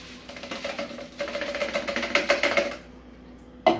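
Seed being dumped into a sieve at a kitchen sink, with a rapid run of small pattering and rattling grains lasting a few seconds before stopping, then one sharp knock at the end.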